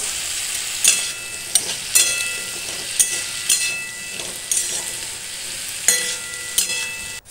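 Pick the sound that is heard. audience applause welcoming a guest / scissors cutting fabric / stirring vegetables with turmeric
stirring vegetables with turmeric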